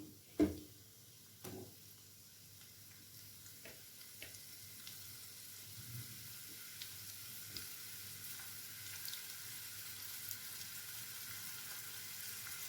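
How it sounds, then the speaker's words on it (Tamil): Onions frying in oil in a pan give a faint, steady sizzle with a few sharp clatters of a utensil early on, and no voices. "கொஞ்சம் ஆயில் சேர்த்துக்கலாம் வெங்காயம் சேர்த்துக்கலாம்"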